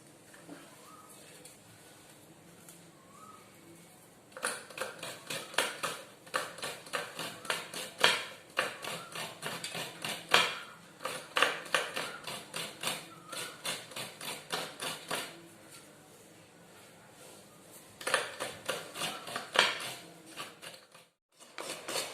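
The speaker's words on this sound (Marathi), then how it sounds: "आता अर्धा नारळ किसते मी।" Half a coconut is grated by hand, producing bursts of quick, rhythmic scraping strokes that come and go in clusters with short pauses, close but fairly quiet and with no voice.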